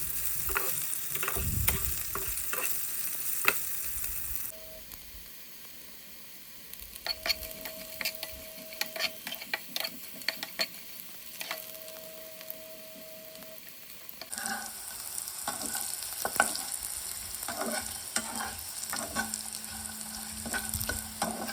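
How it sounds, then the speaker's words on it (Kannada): Bitter gourd pieces frying in a pan while being stirred, loud continuous sizzling broken by scraping spoon strokes, a brief quieter stretch in the middle, then vigorous frying again; no talk. "ಒಂದು 2 ನಿಮಿಷ ಚೆಂದಂಗೆ ಫ್ರೈ ಮಾಡ್ಕೊರಿ"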